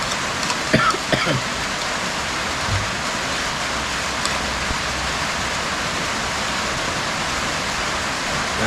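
Steady, dense rain falls outdoors during a storm, a continuous hiss of drops pattering on surfaces for the whole stretch, with no one talking.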